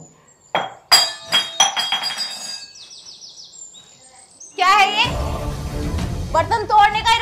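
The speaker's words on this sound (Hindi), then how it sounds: "बर्तन तोड़ने का इरादा है क्या?" Steel or glass dishes clatter and crash to the floor at home, a sharp metallic clang followed by a burst of rattling and ringing pieces, with birds chirping and voices nearby.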